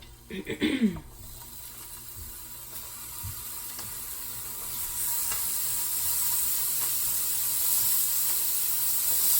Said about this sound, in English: we're just gonna go ahead and brown our meatballs. So I'm gonna just go ahead and put them all in my skillet on high